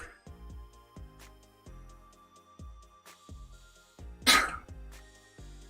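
A single loud sneeze bursts out once over game music and sound effects during a Modern Warfare or Warzone session on PS4.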